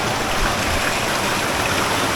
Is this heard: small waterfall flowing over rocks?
yes